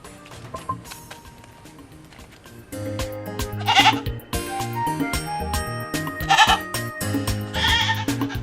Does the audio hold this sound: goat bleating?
yes